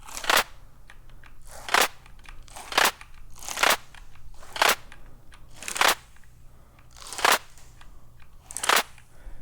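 Granular clap sounds synthesized in Phase Plant, a series of about eight sharp, crunchy, crackling bursts at a loose, uneven pace, each standing alone over a low background hum.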